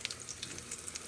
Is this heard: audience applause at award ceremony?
no